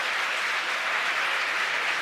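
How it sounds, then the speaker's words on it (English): Spectators applauding and cheering at a SpaceX Falcon Heavy STP-2 launch, a dense, continuous roar of crowd noise heard from a distance, steady with no clear individual claps. "Hear the crowd cheer behind me."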